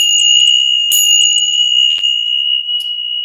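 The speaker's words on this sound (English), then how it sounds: "So I use the 10 Shaw bells at the beginning of sessions" Tingsha bells struck to open a healing session, a sustained bright metallic ring that hangs on, with a few more light strikes and shimmering overtones layered over the decaying tone, alone and fairly loud.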